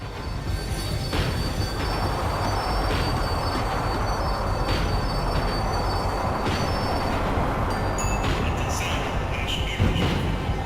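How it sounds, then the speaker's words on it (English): A tram in the video game Max Payne slows to a stop with a steady rolling rumble and high, drawn-out wheel squeals. Faint metallic clicks and creaks come through near the end. "The tram was slowing down, and I'd only just gotten on board."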